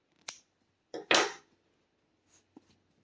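Scissors snip yarn free from a finished crochet rose for a granny square, two quick close cuts around the one-second mark followed by faint handling noises, with no talking.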